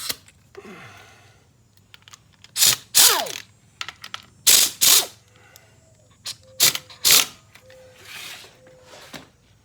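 A bolt on the shifter arm of a 1990 Harley Electra Glide Evo is worked loose with a ratchet, giving close bursts of metallic clicking and clanking separated by quiet pauses.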